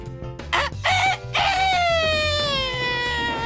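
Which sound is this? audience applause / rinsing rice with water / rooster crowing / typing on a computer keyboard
rooster crowing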